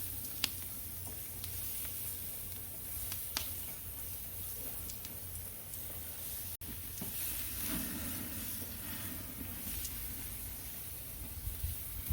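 A thin steak sizzles steadily in a hot pan, with a continuous bright hiss and fine spattering crackles and a few sharper pops, fairly close and alone.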